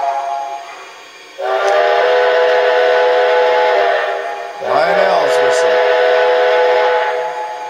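Two long blasts of a Lionel model train steam whistle, the second with a wavering, bending start, sounding over a soft mechanical hum.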